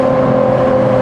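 A Mercedes-AMG 63 Black Series engine holds a loud, steady droning note with a strong constant tone, close and unbroken for about a second.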